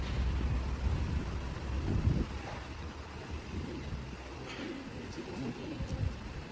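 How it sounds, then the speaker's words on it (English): Pigeons coo near an outdoor table, soft low cooing calls rising faintly over wind and distant traffic noise, with a person talking nearby. "These pigeons want some really bad."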